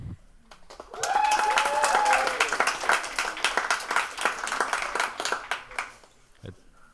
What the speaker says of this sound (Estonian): Ma arvan, et võiks aplausi teha meie tillukestele esinejatele.